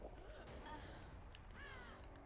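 A crow caws a couple of times in the Dead by Daylight video game, faint rising calls set against a low ambient drone and game noise, with talk around it.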